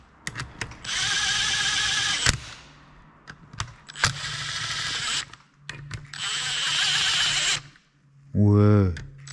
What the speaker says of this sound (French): Est-ce qu'il y a la clé à choc